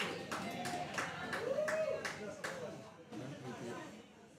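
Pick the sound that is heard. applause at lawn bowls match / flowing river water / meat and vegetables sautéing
applause at lawn bowls match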